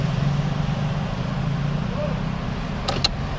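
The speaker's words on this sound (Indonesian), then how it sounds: "Ini banyak mobil, lalu lalang," Steady traffic noise from passing cars and motorbikes outside a 2024 Toyota Yaris Cross 1.5 GR Sport Hybrid, heard from the cabin as a continuous low rumble with a couple of brief clicks near the end.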